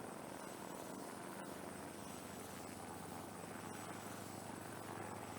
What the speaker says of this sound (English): I see our chopper.